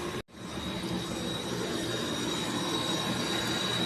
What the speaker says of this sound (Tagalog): Ito nga pala yung bago nating compressor. Ayan po. Pinapagana na po natin.